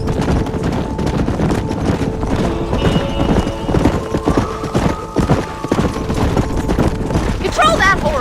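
Rhythmic clip-clop of several horses' hooves trotting while herding cattle in Red Dead Redemption, close and steady, with a horse's whinny near the end and background game sounds.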